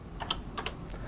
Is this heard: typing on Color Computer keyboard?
yes